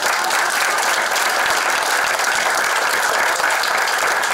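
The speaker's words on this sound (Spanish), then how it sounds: "Eso merece un gran aplauso." Loud, dense applause from a gathered crowd at a park opening ceremony in Cancún, a continuous close wash of many hands clapping at an even level from start to finish.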